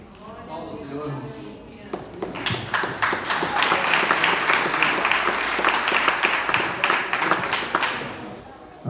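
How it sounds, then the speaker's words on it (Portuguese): A church congregation applauding during a worship service, a sustained burst of many hands clapping that builds quickly and continues steadily, with voices mixed underneath. "Palmas, Senhor."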